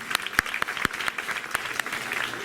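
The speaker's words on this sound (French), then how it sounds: "on peut l'applaudir franchement" Audience at a French comedy talk show breaks into applause, a dense patter of clapping with a few sharper claps standing out, steady and close, with no voices over it.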